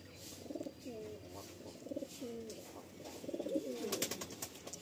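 A pair of black pigeons coo in a pigeon loft, repeated soft rolling coos close by in a rhythmic series, with light clicks and rustles in the background.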